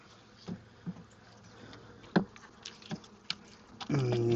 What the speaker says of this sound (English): Getting into bees here